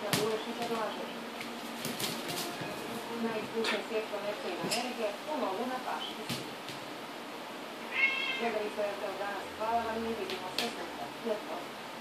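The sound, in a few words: cat meowing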